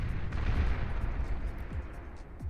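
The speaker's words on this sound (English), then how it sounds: "Rail cannon." A rail cannon fires in the strategy game Beyond All Reason, a heavy low boom rolling out into a rumbling tail with faint sharper cracks near the end.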